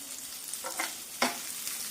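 Tamarind cooks in a frying pan in a home kitchen, giving a soft steady sizzle with a few brief scraping stirs, quiet and close, with no talking.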